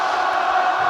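A stadium crowd singing together at an AFL qualifying final between Brisbane and Port Adelaide, a dense sustained roar of massed voices, loud and unbroken over a brief moment.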